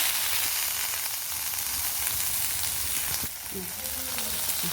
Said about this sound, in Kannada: ಈಗ ಒಲೆ ಮೇಲೆ ಬಾಣಲಿ ಇಟ್ಕೊಂಬ ಫ್ರೆಂಡ್ಸ್ ಟೂ ಟೇಬಲ್ ಸ್ಪೂನ್ ಎರಡು ಟೇಬಲ್ ಸ್ಪೂನ್ ಫಸ್ಟು ಬಟರ್ ಹಾಕೊಂಡೆ